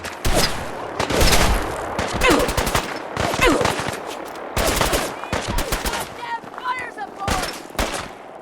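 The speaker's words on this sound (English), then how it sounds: "Who's shooting me?" Rapid gunfire bursts from a Fallout 4 firefight crackle repeatedly through the scene, with short volleys close together and some voices and game sounds mixed in.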